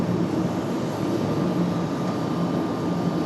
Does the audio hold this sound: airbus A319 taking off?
yes